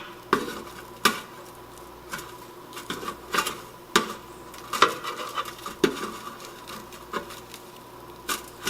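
Tongs clatter against an air fryer basket while breaded fried green tomatoes are flipped, giving a series of sharp metallic clicks and taps at an irregular pace, close and fairly loud, with a faint sizzle underneath and no talking.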